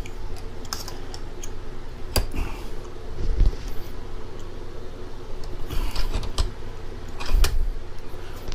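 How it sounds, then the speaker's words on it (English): A brake caliper bracket from a Honda ST front brake is clamped into a bench vise's soft jaws, giving scattered metallic clicks and a few sharp knocks over a quiet background. "I'm going to put it in my vise in the soft jaws,"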